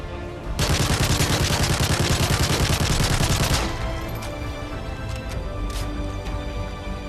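A CM901 assault rifle in Modern Warfare 3 multiplayer fires one loud, sustained automatic burst of about three seconds, followed by a quieter stretch of lingering game ambience.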